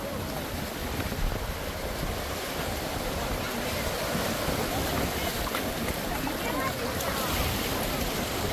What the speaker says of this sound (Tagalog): Wow, malakas alon.